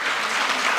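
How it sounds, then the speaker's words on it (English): Dense, steady applause from a conference audience in Nairobi, a continuous wash of many hands clapping at once, close and even throughout with no voices standing out. "Clap for them then, if you don't want to clap for me."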